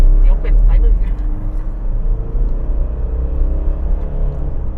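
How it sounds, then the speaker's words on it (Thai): A 2013 Mitsubishi Pajero 2.5 GT 2WD engine rumbles steadily and loudly up close as the accelerator is pressed, with someone talking over it. "เดี๋ยวผมจะลอง กดคันเร่งดูนะครับ"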